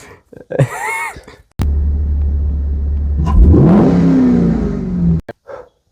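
A Chevrolet Camaro's engine idles with a loud low rumble, then revs hard and accelerates on an interstate during a street race, the pitch sweeping upward before cutting off.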